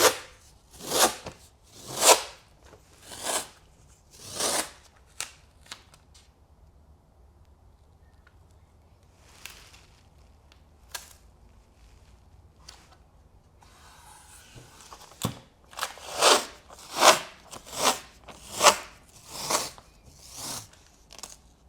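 Masking tape is torn and pressed onto a helicopter tail rotor blade in a series of sharp, close ripping and crackling bursts, separated by quiet pauses, with a busier cluster toward the end.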